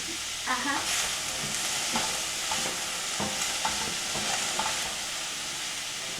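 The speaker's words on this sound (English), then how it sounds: "the water is boiling" Water boiling hard in a pot for cooking noodles, a steady bubbling hiss with a few soft clinks and knocks nearby.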